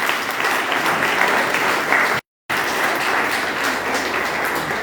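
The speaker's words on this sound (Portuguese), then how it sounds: "Vamos aplaudir o Senhor?" A church congregation applauds steadily during a baptism service, the clapping dense and even, broken by a brief moment of total silence midway before it resumes at the same level.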